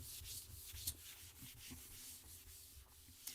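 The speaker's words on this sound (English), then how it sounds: "I'm going to rub this off now." Faint, steady rubbing and scrubbing as a drawing is wiped off a board, with soft repeated strokes close by and no speech.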